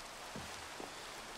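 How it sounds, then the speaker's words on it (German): Rain falling in the Minecraft modpack Tekxit, a soft steady hiss of game rainfall with a couple of faint low thuds, quiet and without talk. "Jetzt regnet auch noch tagsüber, ey."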